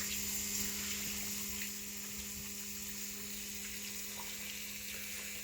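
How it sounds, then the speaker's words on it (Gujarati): Water pump motor running in a farm field, a faint steady hum with a constant rushing of water, unchanging for the whole stretch and with no talk. "અહીં મોટર ચાલુ છે, અહીં પંપ પડ્યો"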